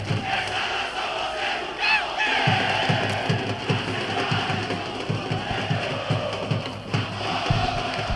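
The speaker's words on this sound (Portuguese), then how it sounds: "Quer ver a festa da torcida rubro-negra, Adalberto?" Football supporters of Moto Club celebrating after a match, a large crowd cheering and chanting with rhythmic shouts and thumping beats, dense and loud throughout.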